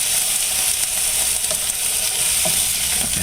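Beef tenderloin sizzles loudly and steadily in a pan as it is flipped, giving a dense hiss with faint knocks from the turn.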